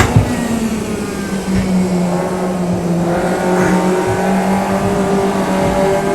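A race car engine on a track holds a loud, sustained high-revving drone with steady harmonic tones, running close and continuous as the driver pushes hard through a lap, with a faint hint of tire noise.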